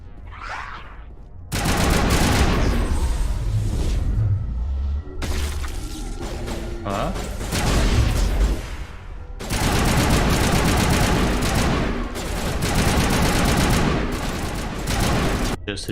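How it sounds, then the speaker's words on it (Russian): Gunfire in the video game Mass Effect comes as loud, dense bursts of automatic fire with sharp impacts, running nearly throughout in close, overlapping volleys. "Тут звук стрельбы какой-то супер громкий."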